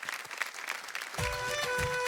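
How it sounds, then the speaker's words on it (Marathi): A studio audience at a Marathi television game show bursts into applause, a dense wash of clapping that swells and grows fuller and louder partway through, with music tones rising underneath. "एकदा जोरदार टाळ्या होऊन जाऊ देत."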